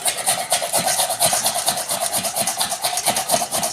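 Bottle gourd rubbed against a grater in quick, steady back-and-forth strokes, a close, loud rasping scrape repeating rhythmically with no talking.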